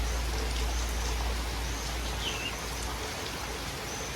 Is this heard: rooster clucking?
no